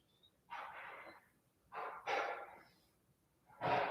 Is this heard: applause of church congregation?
no